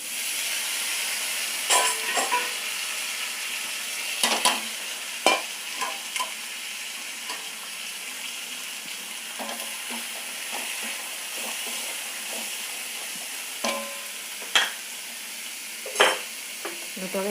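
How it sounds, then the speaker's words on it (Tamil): Ridge gourd peel sautéing in oil in a pan, a continuous soft sizzle and hiss punctuated by sharp scraping stirs of a spoon at irregular intervals, close up and without talk. "இந்த பீர்க்கங்காய் தோல் இதெல்லாம் வதக்கிடலாம்."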